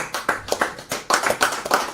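An audience at a live-streamed civic event gives a round of applause, a handful of close, uneven hand claps bunching into quick bursts.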